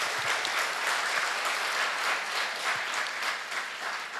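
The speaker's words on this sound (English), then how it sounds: "Please give a round of applause." Audience applause at a memorial lecture, a dense, steady wash of many hands clapping that holds at an even level from start to finish with no voices over it.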